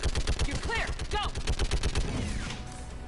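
Rapid turret gunfire in the video game Mass Effect 3, a steady rhythmic stream of loud shots with whining sci-fi sweeps over it, fading toward the end as the firing stops.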